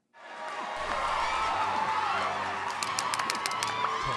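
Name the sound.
applause for graduates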